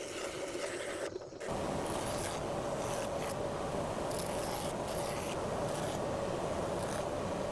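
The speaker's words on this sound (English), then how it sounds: "The blanks get clamped together and sanded so their outside profiles are all identical." Wooden pattern blanks for a steam locomotive quadrant, clamped together and sanded, give a steady, continuous abrasive rubbing. It runs unbroken and close after a brief pause near the start, with no voices.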